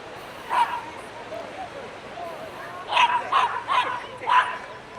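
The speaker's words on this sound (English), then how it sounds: "You see all the lovely doggies out and playing about." Dogs playing on a beach at Goodrington give several sharp yips and barks, some spaced, then a quick cluster, moderately distant over a soft ambient background.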